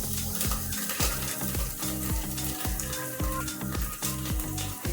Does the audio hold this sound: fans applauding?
no